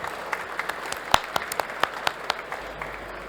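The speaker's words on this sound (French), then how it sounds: "Monsieur Leclerc, on peut vous applaudir" Scattered applause from a small conference audience follows a cybersecurity talk on ransomware testing, with sparse separate claps rather than a full ovation, fairly quiet and thinning out toward the end.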